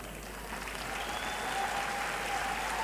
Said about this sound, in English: And applause for the announcement of the first